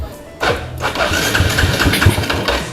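A contest-built motorcycle engine cranks and fires up after about half a second, then runs close and loud with a choppy, uneven idle.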